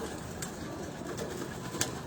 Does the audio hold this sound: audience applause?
no